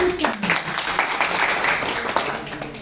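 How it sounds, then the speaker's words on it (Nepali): Audience at a Nepali party training event applauding to welcome new members, a steady wash of clapping from many hands lasting the whole moment, with a voice faintly audible underneath. "साथीलाई एकपटक ताली बजाएर फेरि"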